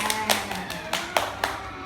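Children clap for a group of classmates, giving a handful of scattered, uneven claps at close range, fairly soft with no voices.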